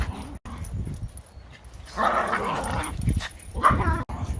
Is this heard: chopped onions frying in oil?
no